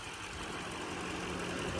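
A 2018 Mercedes-Benz C63s AMG idles with a steady, smooth, close rumble, its engine note constant and uninterrupted with no voices over it.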